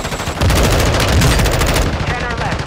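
Gunfire in the video game Call of Duty Warzone, a loud rapid automatic burst with sharp repeated cracks, close and dominant, with a voice briefly under it.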